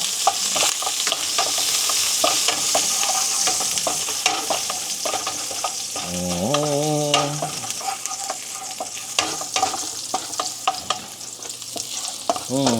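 Ginger, red pepper and garlic stir-frying in hot oil as the start of a squid dish, loud crackling sizzle with repeated spatula scrapes and clacks against the pan, plus a brief tonal squeal midway, no talk.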